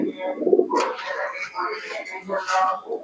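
Teddy pigeons, an imported Pakistani breed, cooing in soft repeated low calls, close by and steady, with a person talking over them throughout.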